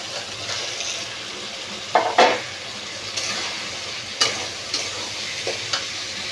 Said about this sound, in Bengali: এখন আমি ভেজে রাখা পটল আলু দিয়ে দেবো